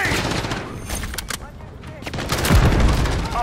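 A grenade blast amid rapid gunfire in a Call of Duty Modern Warfare 3 multiplayer match: dense bursts of shots with a heavy low boom near the end, close and loud, with a voice calling out over it.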